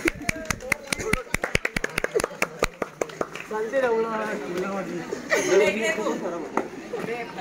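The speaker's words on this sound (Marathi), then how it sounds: "टाळ्या वाजवावे." Sharp, rapid claps ring out for a few seconds at a match after a prize announcement, then fade into steady chatter and voices talking nearby.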